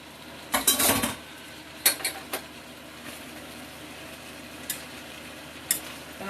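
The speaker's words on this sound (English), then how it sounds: "Then I'm going to stir this up." Pinto beans get stirred in a pan with a utensil, a cluster of scraping clinks at first, then sparse, soft taps against the metal spaced out over several seconds, close and fairly quiet.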